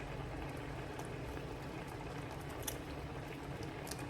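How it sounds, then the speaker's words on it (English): Chicken broth gravy simmering in a skillet gives a steady, close bubbling and faint patter, with small pops scattered over a continuous low sizzle and no voices. "Our gravy is coming up to a simmer."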